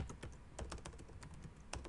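Rapid typing on a computer keyboard while entering C# code, with a steady run of light, close clicks and a few louder key strikes spread across the stretch.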